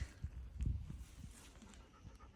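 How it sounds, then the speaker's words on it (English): A dog pants in quick, rhythmic breaths close by at a bush campsite, with faint shuffling movement in the background. "Cali, it's Dakota's dog."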